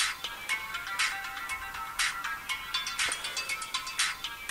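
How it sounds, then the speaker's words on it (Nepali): A mobile phone ringtone plays alone as a repeating electronic melody of bright, evenly spaced tones, steady and fairly close, in a domestic scene from a Nepali TV serial. "आमा मेरो फोन आयो"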